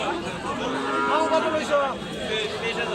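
A cow lets out a drawn-out moo amid murmuring voices and a busy, crowded background at a cattle market.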